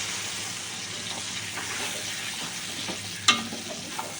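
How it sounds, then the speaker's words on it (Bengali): Water from a rinsed bowl pours into a pan of fish curry, giving a faint, steady hiss and bubbling sizzle, with a sudden splash and clink near the end. "আর এই দিচ্ছি বাটিটা ধুয়ে জলটা দিচ্ছি।"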